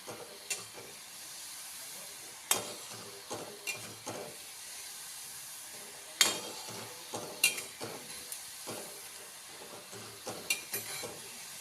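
Shankarpali deep-frying in oil over a low gas flame, a steady soft sizzle with scattered sharp clinks and scrapes of a utensil stirring in the pan.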